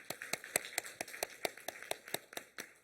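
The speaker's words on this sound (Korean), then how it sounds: "우리 찬양팀을 위해서 박수를 한번 격려하겠습니다" Scattered claps from a small church congregation at a Friday prayer meeting, cheering on the worship team, with about a dozen distinct, uneven hand claps heard faintly and close by, with no talk.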